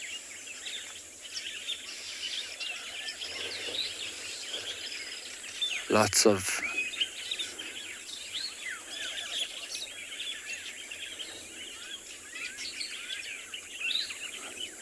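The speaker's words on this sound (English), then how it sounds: "There are a lot of dark-capped bulbuls flying around here." Dark-capped bulbuls and starlings call all around on an afternoon safari in South Africa, with busy overlapping chirps and whistles under steady insect buzz, and a loud close sweeping call near the middle; someone speaks briefly.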